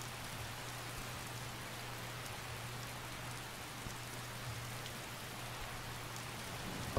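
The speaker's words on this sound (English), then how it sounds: "It's raining over half of my screen only." Steady rain falls in the Skyrim video game, an even, soft hiss with scattered droplet ticks and no voices over it.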